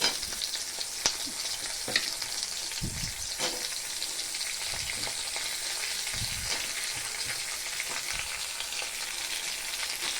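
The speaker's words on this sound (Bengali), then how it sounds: "পেঁয়াজটা হালকা ভাজা হয়ে গেছে এবারে ক্যাপসিকামগুলো দিয়ে দেবো" Onion and capsicum frying in a pan make a soft, constant crackling sizzle with scattered spatter pops and occasional low stirring knocks, with no talking.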